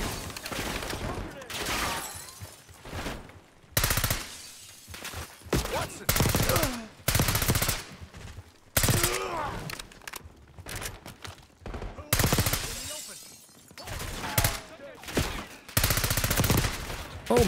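Heavy gunfire in the video game Call of Duty: Black Ops 6 during a prison breakout mission, with repeated loud bursts and rapid automatic fire, interrupted by short gaps and a voice speaking between volleys.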